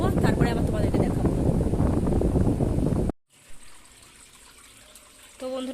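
Water pours steadily and fairly loudly into a household air cooler for about three seconds, stops abruptly, and leaves a quiet room in which a voice can be heard.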